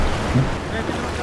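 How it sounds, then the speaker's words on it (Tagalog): Ocean waves wash ashore at a rocky beach campsite in Batangas, a steady broadband surf roar close by with wind noise buffeting the microphone and a brief voice in the background. "mahaba yung alon."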